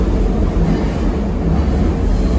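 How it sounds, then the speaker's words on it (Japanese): An Osaka Metro train pulls away toward the next station, a loud continuous low rumble of wheels and running gear heard from a viewing spot, steady without talk. "今乗ってきた電車が次の駅へ向かっています。"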